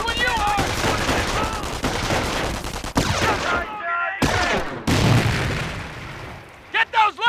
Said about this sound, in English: Let's throw a grenade to destroy the machine gun team.